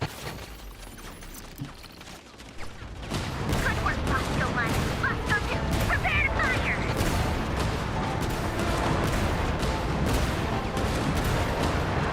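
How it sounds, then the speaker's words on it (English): Video game explosions and rapid fire crash in a dense, loud, continuous barrage, starting after a quieter moment. "big explosions. We don't need those little bullets. We shoot the big bombs."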